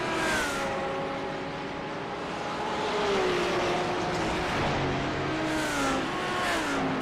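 Several Porsche 911 GT3 R race cars at Bathurst in the iRacing sim, engines droning steadily with rising and falling harmonic pitch as they run together, loud and continuous without any voices.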